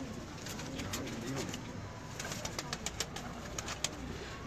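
Sialkoti pigeons kept by a pigeon fancier coo softly and repeatedly, faint and continuous within a noisy, crowded setting, with people talking nearby.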